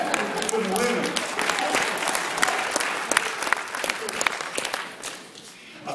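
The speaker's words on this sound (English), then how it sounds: "Let's get applause on that from the women." Audience applause at a lecture fills the room with dense, steady clapping from women in the crowd, slowly tapering off toward the end, with some voices mixed in.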